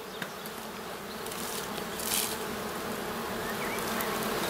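Black honey bees buzz steadily at an open hive, a dense continuous drone that holds close and even throughout with no voices over it.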